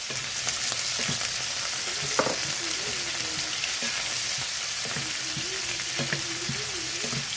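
Onion and shrimp fry in a pan for vegetable lumpia, giving a steady, close sizzle with occasional stirring clatter throughout.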